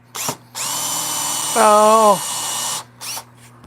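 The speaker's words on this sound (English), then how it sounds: "this is a 3/8 inch hole, drill bit" A power drill with a 3/8 inch bit whines steadily for a couple of seconds, its pitch rising briefly as it bites into a bowl blank, with short bursts of speech before and after.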